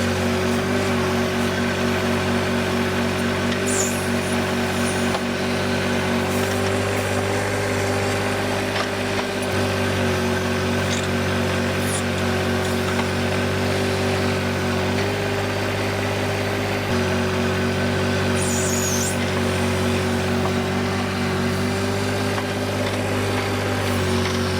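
A turbocharged John Deere 1025R compact tractor engine idles steadily for the whole stretch, a constant low mechanical hum with a faint periodic rattle and no voices.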